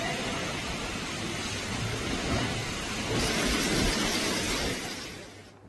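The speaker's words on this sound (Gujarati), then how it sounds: "ધાર વરસાદ, તેજ પવન અને તેની સાથે વરસાદ પડ્યો છે" Heavy rain driven by strong wind in Vyara, a dense, roaring wash of downpour and gusts that holds steady, swells slightly midway, then fades at the end, with no voices.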